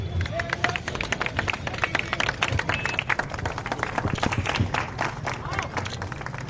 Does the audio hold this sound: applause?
yes